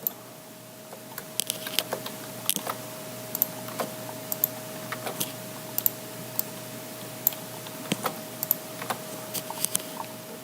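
Rapid, irregular key clicks from typing text on a computer keyboard, close and fairly crisp over a steady faint hum, with no talking.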